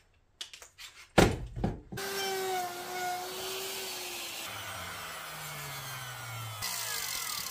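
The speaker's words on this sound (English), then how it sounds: "You could do a few passes with a circular saw." A power saw cuts through wood for an artist's wall easel. It opens with a few short bursts, then settles into a long, steady whining cut with a shifting pitch, close and fairly quiet.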